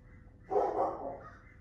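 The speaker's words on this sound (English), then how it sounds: "I apologize for my dog barking." A single muffled dog bark sounds from a short distance, brief and moderately loud against a quiet background.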